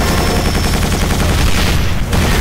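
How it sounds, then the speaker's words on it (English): Loud, dense gunfire from Quake 4 hammers continuously in rapid automatic bursts, close and overwhelming, with a brief dip near the end before resuming. "I'm shooting."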